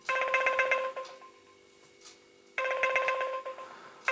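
An outgoing call's ringing tone plays from an Atongm W008 smartwatch, two bursts of rapid trilling rings about a second long, separated by a quiet pause, heard fairly close.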